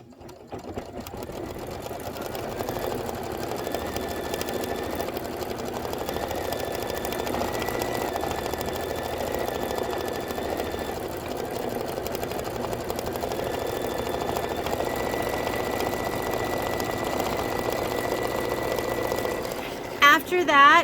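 An embroidery machine stitches out the word "cozy" for a Kimberbell Stay Cozy bench buddy pillow, giving a steady, close mechanical whir with a rapid needle rhythm that runs without a break for about twenty seconds.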